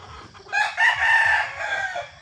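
A gamefowl rooster crows once, loud and close, a rising then sustained cock-a-doodle-doo of about a second and a half on a farm, with no talk over it.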